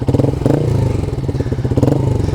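Rouser NS125 Fi motorcycle fitted with an aftermarket exhaust revs hard and close, a loud, steady raspy engine note with rhythmic throttle surges throughout.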